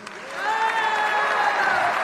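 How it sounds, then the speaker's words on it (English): A crowd at a political speech breaks into applause and cheering that swells within the first half-second and then holds steady and full. "Huge applaud line for that one."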